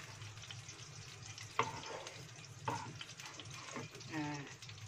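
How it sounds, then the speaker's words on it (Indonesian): Ground spice paste poured into hot frying oil, a close steady sizzle with a few sharp spattering pops and stirring scrapes, and a voice speaking briefly near the end. "Terus bumbunya yang dihaluskan dituangkan"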